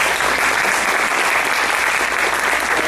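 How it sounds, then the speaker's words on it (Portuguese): An audience at a talk on violent video games and the media applauds, a dense, steady burst of clapping that fills the whole moment without a break. "Vocês podem aplaudir"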